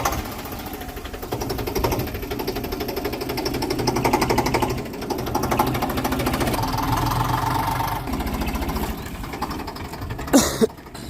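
A tractor engine in a Gujarati farm setting starts and runs with a loud, steady rough knocking chug throughout, ending in a brief clatter near the end.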